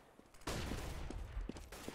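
Gunfire in a Counter-Strike match: a sudden loud burst of shots with several following reports in quick succession, close and sharp over game ambience.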